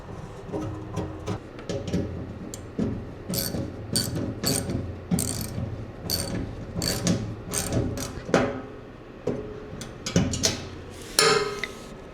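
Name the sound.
bolting relays and parts into an electric truck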